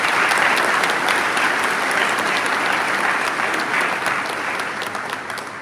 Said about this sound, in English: Round of applause for Colonel Kraft.